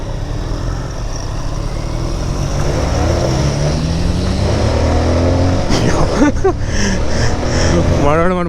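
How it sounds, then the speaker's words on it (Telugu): Bajaj Pulsar 220F motorcycle riding along, its engine droning steadily with wind rush up close, under a man's speech, with rising revs near the end. "మనవాడు మన బండి తోలుతున్నాడు"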